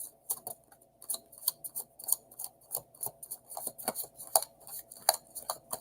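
Tarot cards are shuffled in a quick, messy run of crisp taps, riffles and clicks, close and moderately soft, with irregular bursts packed closely together and no talking.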